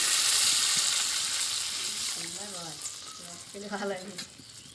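Water goes into a pan of raw banana kofta curry base, setting off a loud bubbling sizzle that slowly settles, with a spoon stirring and brief scraping clinks toward the end.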